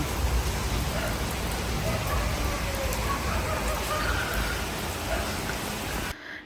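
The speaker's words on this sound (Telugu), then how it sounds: "ఫుల్ వర్షం" Heavy rain pours down steadily in a dense, constant hiss of drops on surfaces, then cuts off abruptly at the end.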